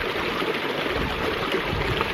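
A small mountain stream flows fast over rocks, giving a continuous close rush and gurgle of water. It stays steady and fairly loud the whole time, with no talking.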